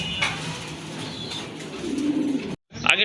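Pigeons for sale coo and shuffle nearby in soft, low repeated calls over light background noise, followed by a brief silence and a sharp bright sound at the end.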